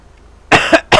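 A man gives two harsh, loud coughs close to the mic, a longer double cough then a short single one, after a moment of near silence.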